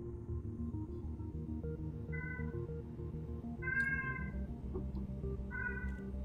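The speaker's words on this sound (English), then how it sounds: "They've kind of over time they've learned how to meow in a certain pitch" A cat meows three times, short rising calls in the foreground spaced a second or two apart, over a constant low background hum, with no talk.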